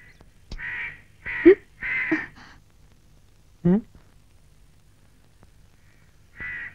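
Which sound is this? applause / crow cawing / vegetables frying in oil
crow cawing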